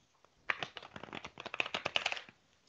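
A deck of playing cards shuffled indoors, a rapid run of crisp riffling clicks and flutters over a couple of seconds, fairly close and without talk.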